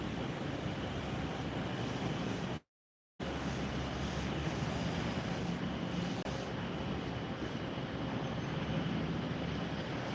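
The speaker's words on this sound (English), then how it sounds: "that Southwest flight that's taxiing down right now" A Southwest airliner taxiing at Tampa airport gives off a steady broadband jet-engine roar, constant and moderately loud from a distance, with one brief dropout.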